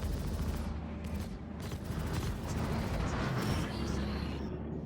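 Spaceship weapons fire in rapid bursts during a Star Citizen player-versus-player fight between Gladius and Defender fighters, a dense, crackling barrage of shots continuing for several seconds with no talk.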